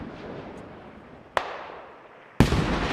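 Grenades go off in a multiplayer shooter match, two sharp blasts a second apart over a decaying rumble, the second louder and fuller, with no voices.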